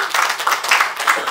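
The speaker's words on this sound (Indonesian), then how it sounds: "tepuk tangan yang meriah buat Tuhan" Indonesian church congregation at a Sunday worship service clapping enthusiastically for God, a loud, even burst of many hands applauding together.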